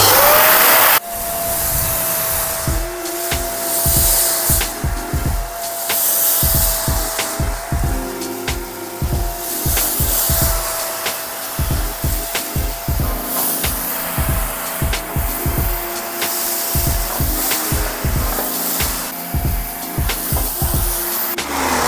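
A Conga ThunderBrush 560 stick vacuum whines steadily in carpet mode while picking up rice from a rug, with rapid rattling ticks of grains being sucked up throughout, close and loud.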